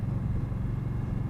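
A 2018 Indian Scout Bobber motorcycle being ridden, its engine giving a steady deep rumble that sits loud and close under wind, with no voices.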